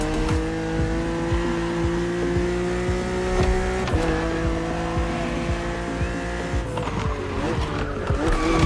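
A BMW Z roadster, a two-seater, races in The Crew against an aggressive opponent, with a steady engine drone, tires squealing through corners and skids, and an engine revving up and down continuously.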